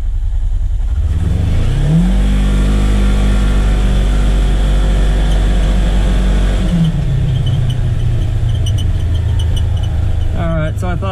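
A Polaris Ranger XP1000 side-by-side fitted with a Hunterworks belt accelerates on a speed run, its engine droning loud and close as the pitch climbs, holds high, then drops away, with wind rumble throughout.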